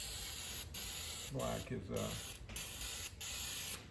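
Remover sprayed from a pump or aerosol onto black painted lettering, a steady hissing spray running through the clip with brief pauses, while someone speaks over it partway through.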